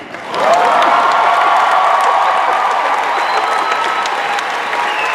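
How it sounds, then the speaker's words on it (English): Large convention audience at a Disney Parks presentation bursting into loud, sustained applause and cheering, a dense wash of clapping that swells quickly and holds steady throughout. "let's have one more big round of applause for our winner, Stanley."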